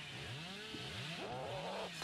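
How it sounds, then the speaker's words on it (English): Chainsaw revving in the horror game Dead by Daylight, a buzzing engine drone that rises and falls in pitch for two seconds at moderate level, with game sounds around it and no talk. "I hear the chainsaw"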